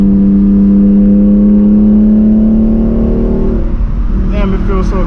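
A BMW E46 with an inline-six engine revs hard while drifting in the rain, its strong harmonic engine note climbing and holding before it breaks up into rougher noise near the end, with a brief voice at the close.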